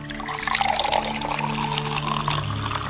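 Drinking water poured steadily for an unwell elderly man, a continuous close splashing stream with soft background music beneath.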